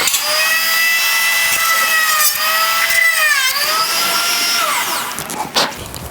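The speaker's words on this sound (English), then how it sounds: "I'm going to put two little divots in to make sure the screws go in nice and easy with a good lead in" A power drill bores two small divots into a dhol drum shell to give screws a lead-in, a loud continuous whine with pitch sweeps as the bit bites and eases off, ending in a few knocks.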